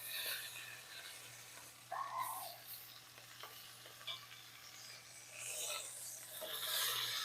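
Pot roast searing in a pan, a quiet continuous sizzle with occasional scraping and shifting of the meat, under a low steady hum.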